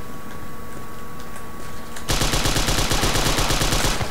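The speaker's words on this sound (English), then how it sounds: "I'm getting shot in the back." Rapid automatic gunfire in the World War II dinosaur shooter Dino D-Day, a sudden burst of fast repeated shots that starts abruptly and continues loud and close, following a quieter stretch of ambient game noise.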